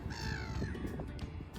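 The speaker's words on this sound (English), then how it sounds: "That's what the seagulls say, isn't it?" Gulls at a pond give harsh, raspy calls, several repeated cries, moderately close, over faint background noise and no speech.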